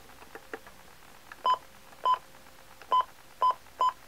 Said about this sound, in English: Let me turn it back on, the button beeps.